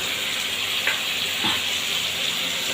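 Thinly sliced potato and tender young stalks frying with spices in a pan for a Bengali fish curry, a continuous close sizzle with occasional stirring scrapes.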